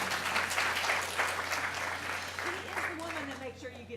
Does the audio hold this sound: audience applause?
yes